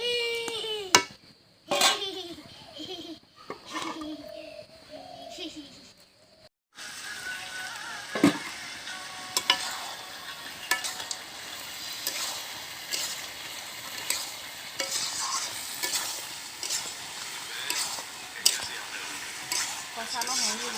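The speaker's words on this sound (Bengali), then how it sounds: "আবারও আমি কষাবো, আর 15-20 মিনিট মতো কষাবো" Chicken curry with spices stirred and sautéed in a pan, a sizzling hiss with repeated scraping and clanking of a utensil against metal, close and busy, after a brief quiet gap and some early clatter.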